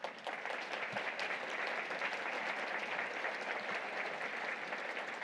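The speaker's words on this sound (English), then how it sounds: "can we give them a round of applause?" A conference audience claps steadily in a dense, sustained round of applause at a lunch keynote, filling the room evenly from start to finish with no voices on top.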